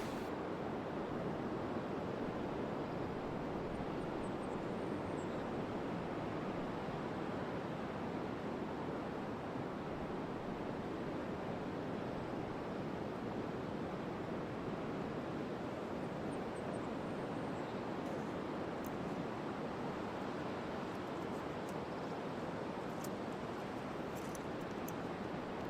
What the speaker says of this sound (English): An aerial view of the waves rolling past the rugged and interesting rock forms.